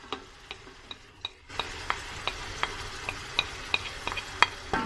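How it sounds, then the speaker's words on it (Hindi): Garlic paste is stirred into browned onions frying in a pan for pakora kadhi, a close steady sizzle broken by regular clicking spoon scrapes, growing louder as the paste hits the oil. "अब हम इसमें लहसुन का पेस्ट ऐड कर देंगे।"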